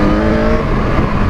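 A fuel-injected Yamaha XJ6 motorcycle engine is given a bit of throttle, a loud, close, continuous roar that stays steady and full throughout the short stretch.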